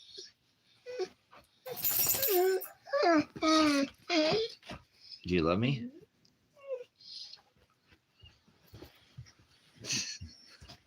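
Puppies whimper and whine in short, high, wavering cries, scattered between a man's speech nearby.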